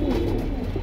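Pigeons at a bird market cooing close by, a brief low throaty coo heard clearly and alone.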